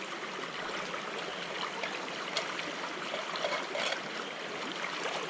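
Soft, steady flowing water trickles and babbles continuously, a gentle creek sound at low volume with no voices.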